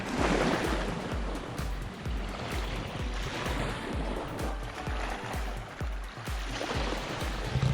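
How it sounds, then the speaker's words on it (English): Gentle surf washes steadily onto the shore nearby, a continuous soft rush of water with low rhythmic pulses and no voices. "I am walking along the sea. It's really calm today."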